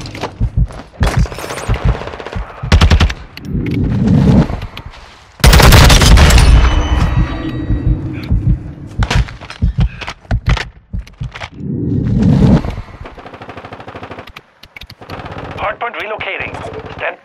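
Bursts of automatic gunfire and single shots from Call of Duty Modern Warfare 2 online multiplayer, loud and close, with a heavy barrage near the middle and players talking over the action.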